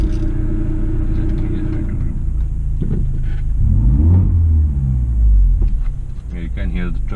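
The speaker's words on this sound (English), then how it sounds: "You can hear the turbo a little bit more." BMW F30 320i LCI with the B48 turbo engine and an FTP intake pipe, revving up and falling back in a loud low rumble with faint turbo whoosh, while someone talks over it.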